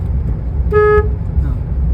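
A car horn sounds once, a steady toot of about a third of a second, over the rumble of a vehicle driving on the Masinagudi road toward Ooty, with a parked car nearby.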